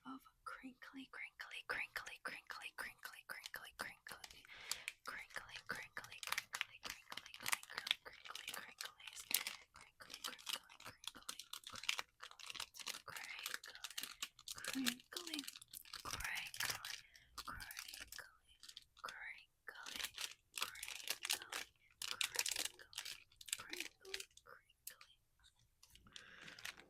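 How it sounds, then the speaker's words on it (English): Plastic packaging crinkles and crunches close up in a dense, steady stream of crackling, with soft whispering woven through it, in an intimate ASMR setting. "This is like the packaging it came in, so I thought we would do a little bit of crinkly."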